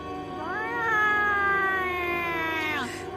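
A cat gives one long, drawn-out meow that rises, holds steady for a couple of seconds, then drops away. It is loud and close, with no talk over it.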